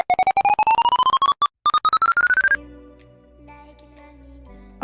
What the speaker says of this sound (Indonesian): Lucu ya bunyi handphone ya.